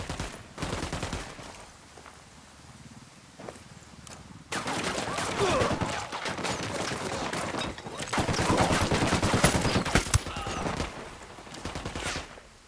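Rapid bursts of automatic gunfire in Ghost Recon Wildlands, dense sustained volleys that swell and ease across the stretch, loud and close, with a voice talking over parts of it.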